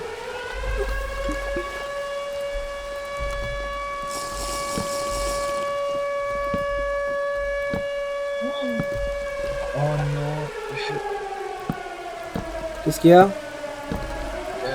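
A siren wails in a horror video game, a steady, eerie tone that bends and sweeps downward and then upward. Voices speak briefly over it.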